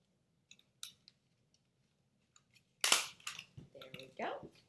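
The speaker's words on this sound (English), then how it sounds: "maybe you need to snip it a little bit." Scissors snip a paper crown piece for a Lady Liberty craft, a few sharp close clicks and cuts, some quiet and isolated, then a louder cluster of snips near the end.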